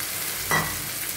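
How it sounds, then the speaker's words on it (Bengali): Cauliflower frying in a spice paste, a soft steady sizzle with one brief stirring scrape midway, short and close. "এখন মশলাটাকে আমি ভালো করে কষিয়ে নেব। মশলাটা দেখুন ভালো করে ভাজা হয়ে গেছে।"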